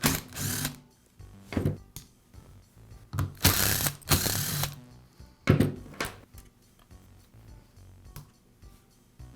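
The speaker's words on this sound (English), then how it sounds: "Next, I'll remove the plates that secure the gear." Gear plates being removed from a Makita reciprocating saw during repair: loud, close metallic clanks and rattling handling bursts, several separated by short pauses.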